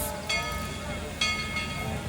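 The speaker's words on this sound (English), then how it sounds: "And that's the train that's leaving right now." Tweetsie Railroad steam locomotive number 190, retired in 1960, pulling away from the station at a park on July 4th: a steady rumbling train sound with two brief louder bursts, heard at moderate distance.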